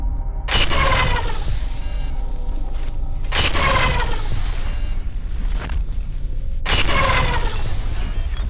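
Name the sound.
turret gunfire in the video game F.E.A.R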